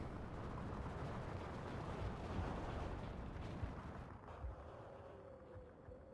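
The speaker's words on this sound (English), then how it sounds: "Curbs has got some artillery on the field, and those 105s are pretty scary" Heavy 105mm artillery fire in the Steel Division 2 World War II strategy game, a continuous dense rumble of booming blasts and distant impacts rolling together, loud and sustained with no talk.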